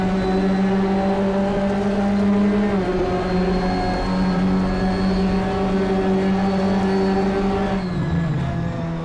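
A Ginetta GT5 race car engine drones loudly and steadily around Brands Hatch in a racing simulator, a sustained mid-revving tone with slight pitch dips as it eases off and brakes.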